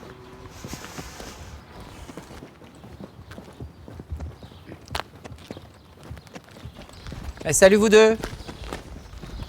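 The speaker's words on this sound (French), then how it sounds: "Les chevaux sont au bout du chemin si vous voulez les voir." Horses walking along a path, hooves clip-clopping in an irregular, close rhythm, with a person briefly speaking a greeting and a louder burst of sound near the end.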